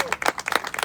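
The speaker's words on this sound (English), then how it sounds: "can we just clap hands for 20 years of God's grace?" An audience clapping hands at a festival celebration, a brief burst of scattered, fairly close claps with a faint voice at the start.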